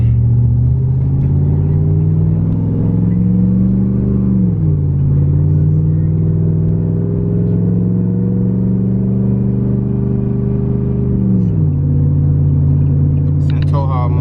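A pickup truck towing a U-Haul trailer on the highway in tow haul mode, its engine droning steadily at low revs with two gear-shift dips in pitch, and a voice talking over it.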